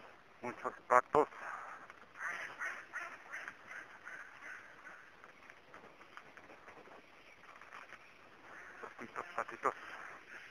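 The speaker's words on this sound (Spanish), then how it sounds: "Muchos patos." Ducks quacking in Parque Tezozomoc, a city park, with a flurry of sharp nearby quacks at the start and scattered quacks later under ongoing park chatter and people talking.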